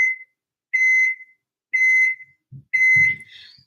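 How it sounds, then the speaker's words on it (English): A microwave beeps four times, each tone high and steady, evenly spaced, with a few soft knocks near the end. "That's my obnoxious microwave."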